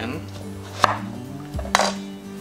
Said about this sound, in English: I'm going to chop them to increase the surface area so they will cook faster.